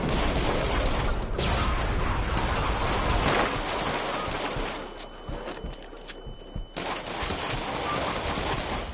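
Continuous gunfire in the VR horror shooter Until Dawn: Rush of Blood, dense rapid shots rattling nonstop with a brief lull in the middle, then resuming.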